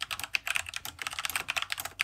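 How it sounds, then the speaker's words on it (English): Typing on a Keychron K2 mechanical keyboard fitted with Gateron brown switches, a close, steady run of clacky keystrokes in quick irregular rhythm, heard alone. "the Keychron K2 mechanical keyboard with Gateron brown"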